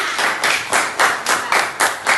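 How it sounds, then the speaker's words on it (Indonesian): Pupils in a classroom clap in unison for a classmate, a rhythmic pattern of about nine crisp group claps in steady beats, close and clear with no talking. "tepuk tangan untuk temannya"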